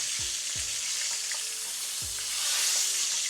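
Bangamary fish fillets frying in hot oil just after being flipped, a dense steady sizzle up close with a few low thumps and clinks of the turning utensil, no talking.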